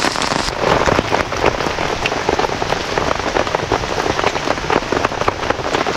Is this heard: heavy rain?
yes